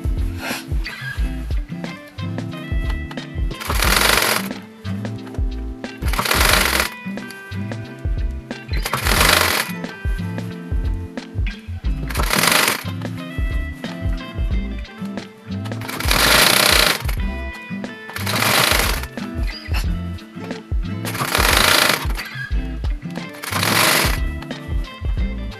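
Sewing machine stitching around the pleats of a bubble skirt, running in loud repeated bursts of rapid mechanical clatter separated by short pauses, with no talking.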